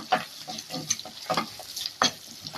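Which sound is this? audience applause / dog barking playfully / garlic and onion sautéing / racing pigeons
garlic and onion sautéing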